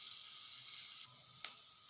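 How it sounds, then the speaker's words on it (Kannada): Garlic, onion and neem leaves fry in a pan with a short, steady hiss of sizzling oil heard up close and alone. "ಚೆನ್ನಾಗಿ ಫ್ರೈ ಮಾಡಿ ಇದನ್ನು ಕೂಡ ಮಿಕ್ಸಿಗೆ ಹಾಕೋದು."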